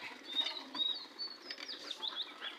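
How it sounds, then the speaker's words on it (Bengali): Pigeons flapping their wings as they enter a cage, with several bursts of fluttering wingbeats mixed with faint chirps, close by and moderately quiet. "এই কবুতরগুলো ঢুকে গেছে।"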